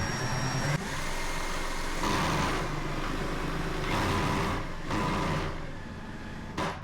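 An electric motor spinning a 3D printed pulley gearbox for a micro hydro turbine at high RPM, a loud, steady mechanical whir and rattle that rises and dips in several surges throughout.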